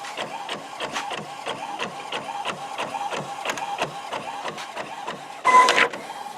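An inkjet printer with refilled ink cartridges runs steadily nearby, its print head shuttling in a regular mechanical rhythm, then a brief louder whir near the end.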